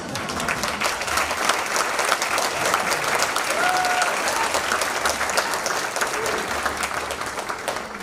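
A crowd at a charity event breaks into loud sustained applause, dense clapping filling the hall steadily for several seconds.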